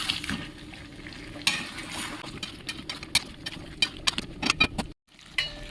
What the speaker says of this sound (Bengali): আবার একবার মিশিয়ে নেব